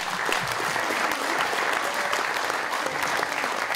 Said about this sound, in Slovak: Ešte raz veľký potlesk.